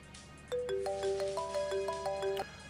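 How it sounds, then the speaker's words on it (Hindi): A phone rings with an incoming call, a bright melodic ringtone of repeated electronic tones playing steadily and clearly for about two seconds with no voices over it. "सर वो एक्चुअली कहीं से फ़ोन आ रहा है"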